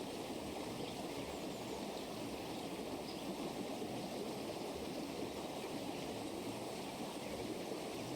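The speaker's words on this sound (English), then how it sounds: "running, rough water." Rough river water runs steadily over rocks, a constant broad rushing wash that stays even and unbroken throughout.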